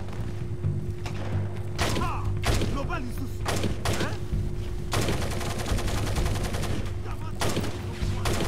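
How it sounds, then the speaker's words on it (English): Heavy gunfire in Splinter Cell: Double Agent, with rapid bursts and thudding shots repeating over several seconds against a constant low hum, and a voice talking between the volleys. "They're just shooting up everybody."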